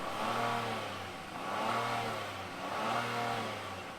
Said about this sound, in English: start it up, give it some gas, rev it out